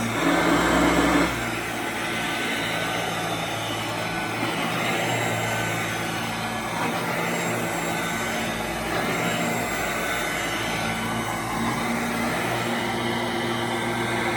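A 1991 Royal Model 882T vacuum cleaner is lifted off the floor while it runs, and its steady, loud motor roar and airflow hiss carry on without a break after a brief louder surge at the start.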